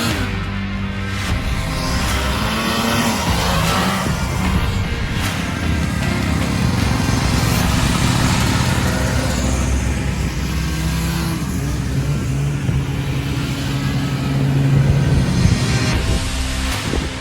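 Several vintage snowmobiles ride along a wooded trail, their two-stroke engines droning loudly and continuously with shifting pitch as the sleds pass and rev.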